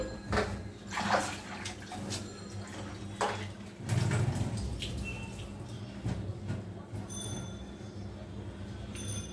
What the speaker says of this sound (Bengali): এখন পাটের শাকটা ধুয়ে পরিষ্কার করে নেই